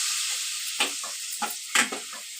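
Spice masala of turmeric, chili powder, garam masala and ginger-garlic paste sizzles steadily in a pan, with a few distinct scraping stirs of a spoon cutting through the hiss, close and alone.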